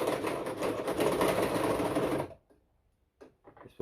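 A sewing machine runs in a campervan, a loud, steady mechanical whir for about two seconds that stops abruptly, followed by near silence and a couple of faint clicks.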